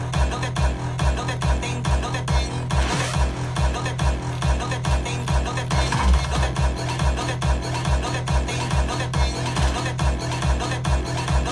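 Dense electronic beat built in FL Studio, with a thumping kick, extra percussion layers and a clap on a steady loop, loud and continuous with no talking.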